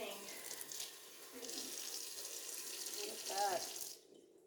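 Fresh herbs washed under a running kitchen tap, water splashing and hissing steadily into the sink for several seconds before cutting off abruptly.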